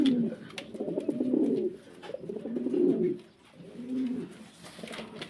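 Pigeons coo in soft, low, rolling phrases, three or four bursts close by with brief quiet gaps between them.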